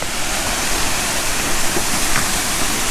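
Loud, unbroken roar of falling water at a Shenandoah river falls, close up and steady throughout, with no voices.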